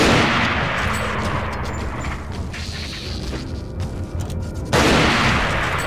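Gunfire in the Resident Evil 4 video game with a Life in Hell mod: loud, dense bursts of shots and booms crowd most of the clip, followed by a sharp renewed blast near the end.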